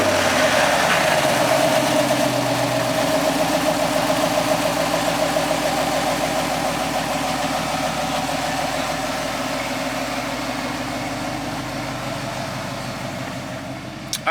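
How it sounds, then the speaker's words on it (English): A Camaro SS V8, fresh from an oil change, runs loud and close at a steady idle, its deep rumble slowly settling a little over the seconds. "it's going to be the first startup with the brand new oil"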